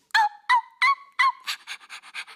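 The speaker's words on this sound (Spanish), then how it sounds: "Y la pequeña Kimmy ladra muy agudo." A small dog gives four sharp, high-pitched barks in steady rhythm, close and loud, followed by a quicker string of shorter yaps.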